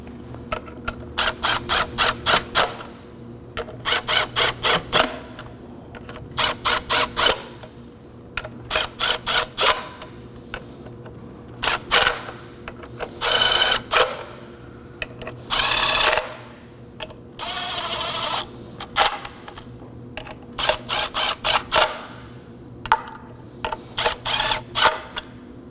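Bolts on the high-pressure fuel pump of a 3.5L V6 Acura MDX being snugged with a ratchet, repeated rapid bursts of clicking pawl strokes in short sets, with a few longer whirring runs between pauses, close and loud.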